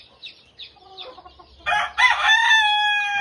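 Chickens give several soft, spaced clucks, then a rooster lets out a loud, close crow that carries through to the end.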